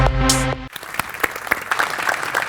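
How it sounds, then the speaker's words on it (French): Audience applause at a French-language TV show, dense clapping that rises in sharp bursts after a brief burst of music cuts off, continuing steadily to the end. "On l'applaudit, s'il vous plaît."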